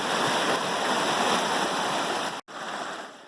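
Water rushes steadily through a gold sluice box set up outdoors, a dense continuous wash of flow that cuts out for a split second before resuming.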